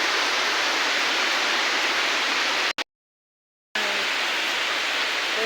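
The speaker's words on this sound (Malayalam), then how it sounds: "രാവിലെ തന്നെ മഴയാണ്" Morning rain during the start of the monsoon makes a dense, steady hiss that cuts out completely for about a second, then resumes unchanged.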